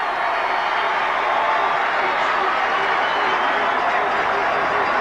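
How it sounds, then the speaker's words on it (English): A Massillon Tigers high school football crowd at a 1989 game against Walsh Jesuit, a dense, steady roar of cheering and shouting from the stands, loud and unbroken throughout. "listen to this Tiger crowd"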